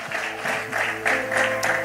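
Church congregation applauding during a sermon, a short burst of steady clapping in waves over sustained music tones, fairly close and loud.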